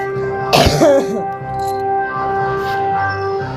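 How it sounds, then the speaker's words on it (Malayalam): A person with a slight cough gives one sharp cough and clears the throat, loud and close, over a steady tonal game soundtrack. "എനിക്ക് ചെറിയ ചുമയുണ്ട്."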